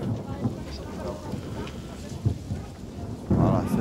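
Rain and rolling thunder of a thunderstorm sound during an outdoor opera rehearsal of Mozart's The Magic Flute, a steady wash of rain with low rumbles and a louder burst near the end, people talking faintly underneath.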